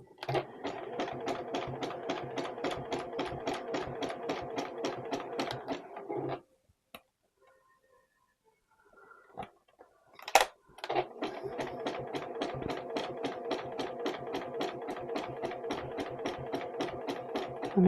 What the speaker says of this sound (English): and just start sewing. Make sure you back tack.